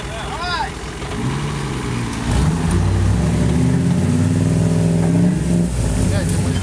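A car engine revs hard as it works to pull a stuck car free outdoors, loud and close, with the pitch climbing and holding under strain. People talk over it.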